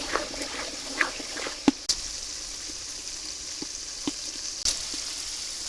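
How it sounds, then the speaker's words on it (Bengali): Whole cardamom, cinnamon and cloves fry in oil in a pan for a chicken and new potato curry, giving a soft, steady sizzle with a few sharp clicks and stirring taps, no talking. "এলাচ দারচিনি আর হইল তুমি লবঙ্গ দিয়ে দিলাম এবার এই মশলাটা সুন্দরভাবে কষাইয়ে নিই আগে"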